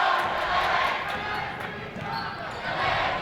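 Crowd at a high school boys basketball game, Mankato East against New Ulm, roars and cheers continuously in an indoor gym, a dense wash of voices with speech mixed in throughout.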